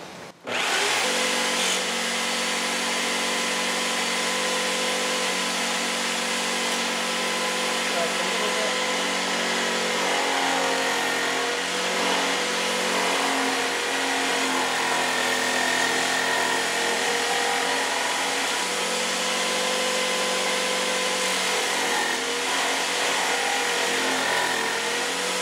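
A drill-powered homemade thickness sander runs steadily and loudly, grinding thin wooden whirligig wings with a continuous whirring drone that barely changes throughout.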